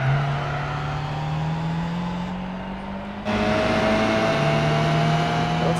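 Engine of a Nissan R32 Skyline drifting in Gran Turismo 4, a steady sustained drone with shifting pitch that drops briefly and then comes back louder, without any talk.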